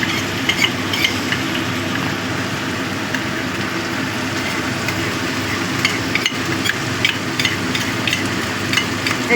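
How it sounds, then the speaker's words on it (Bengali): Spiced yogurt paste of coriander, turmeric and chili powders being stirred into cauliflower curry in a hot pan, a steady sizzle with soft scraping and light utensil clinks throughout, no talking. "সব দিয়ে ভালো করে মিশিয়ে নিচ্ছে।"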